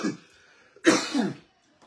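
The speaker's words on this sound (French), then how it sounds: "excusez-moi, depuis 2 jours là, j'ai la toux." A single cough from a man with a two-day cough, a short close burst followed by a rougher second push, alone in a quiet room.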